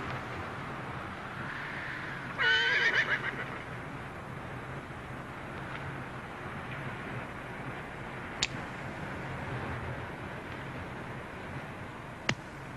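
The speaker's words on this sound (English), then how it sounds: "Caballo." A horse neighs once, briefly and at moderate distance, in a 1971 western film, the whinny rising over steady outdoor wind and background noise, with no clear hoofbeats following.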